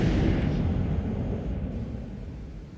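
Heavy naval gunfire from a Fuso battleship in World of Warships Legends, a deep rumbling boom that rolls and slowly fades over a few seconds, loud and close with no voice over it.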